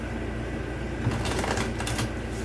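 A steady, dense riffling of tarot cards being shuffled close up, a continuous papery flutter with no talking.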